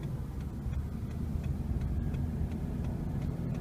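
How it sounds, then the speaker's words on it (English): A car driving down Fremont Street past a trailer supply, furniture store and motels, heard as a steady low road and engine rumble from inside the moving vehicle, with faint ticking over it. "I'm going to make a right and just give you a drive down Fremont Street"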